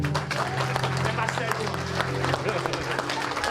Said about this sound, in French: Applaudissez les Seigneur.